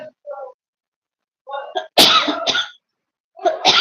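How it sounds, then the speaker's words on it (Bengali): A person coughs in a few sharp, loud, close bursts, preceded by short throaty vocal sounds and separated by brief silences. "এখানে এখন আমার কাশি হচ্ছে"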